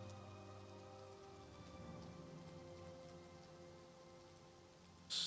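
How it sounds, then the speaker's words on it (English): Rain falls steadily in the video game Oblivion, a soft, even hiss of drops on surfaces under quiet sustained game music, with a brief louder burst at the very end. "Well, it's raining."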